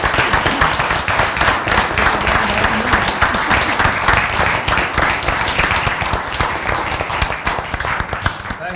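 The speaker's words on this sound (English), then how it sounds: "So if you'd please stand and join me in a round of applause," Loud, sustained applause from an audience at a Southern Shores town meeting, dense clapping running steadily throughout with no pauses, close and full.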